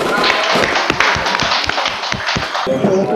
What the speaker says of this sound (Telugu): ఓకే, క్లాప్స్ చూడండి ఒకసారి